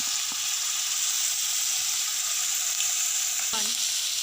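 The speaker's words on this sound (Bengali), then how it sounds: "এর মধ্যে এবার আমি রসুন বাটাটা দিয়ে দেবো।" Garlic paste added to onion paste in hot oil gives a loud, steady, close sizzle and fry, with one brief stir or scrape near the end and no talking.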